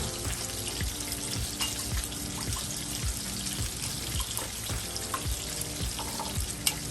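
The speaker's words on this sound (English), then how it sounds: "Let's get a fork, whisk this around" A fork whisks raw eggs seasoned with salt and pepper, making quick rhythmic clicking taps that repeat steadily and close by, with no talking.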